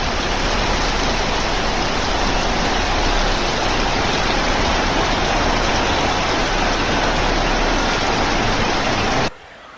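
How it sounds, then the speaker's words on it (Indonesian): Heavy rain pours steadily and loudly at a campsite during a night storm, a dense unbroken roar of drops on surfaces that cuts off abruptly at the end. "hujannya nggak reda-reda"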